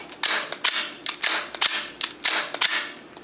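A Glock pistol fitted with a forced reset trigger gives a run of sharp, close mechanical clicks and snaps in an even, rapid rhythm during a function test, with no talking.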